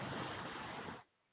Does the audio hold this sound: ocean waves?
yes